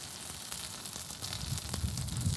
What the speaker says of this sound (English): Look at that, the fat is melting instantly, greasing up the plate.